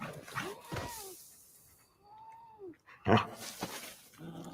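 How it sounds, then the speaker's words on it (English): A dog in a Superman film scene gives a few short whimpering, yelping sounds with a brief high whine in the middle, heard close and moderately loud among other scene noise. "That's not even the right kind of dog to be Crypto"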